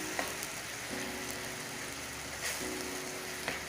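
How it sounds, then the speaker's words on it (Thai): Thai curry paste being stir-fried in a pan with a little water, a soft continuous sizzle with faint scrapes of stirring, quiet and close. "เอาพริกแกงนะคะ ลงไป ผัดให้หอมก่อนเลยค่ะ"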